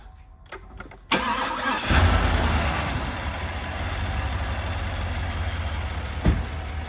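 A rebuilt Cadillac Escalade engine with repaired lifters cranks briefly, then catches and settles into a loud, steady idle that runs to the end with one small bump in level.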